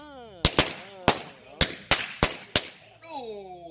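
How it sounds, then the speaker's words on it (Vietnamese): Firecrackers go off at a home gathering in Florida: seven sharp, loud bangs in an irregular rhythm over a few seconds, with people talking before and after. "Bây giờ đốt pháo quá trời."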